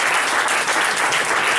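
An audience at a meeting of peace-promoting chaplains in Togo breaks into loud, dense clapping that stays strong and continuous from start to finish, with no speech over it.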